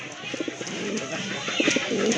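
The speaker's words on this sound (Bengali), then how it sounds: "এটা কিন্তু একটা সিঙ্গেল নর কবুতর" Soft, low pigeon cooing, including a single male Madrasi golla pigeon, repeats in short bursts over a steady hiss of background noise, with no talking.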